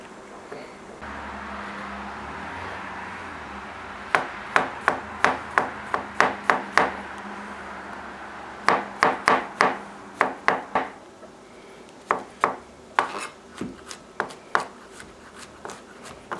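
A knife slices mushroom stems and then caps on a cutting board in quick bursts of crisp, sharp chops, several runs of rapid cuts close up against a faint background hum.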